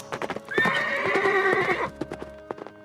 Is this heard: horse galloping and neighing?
yes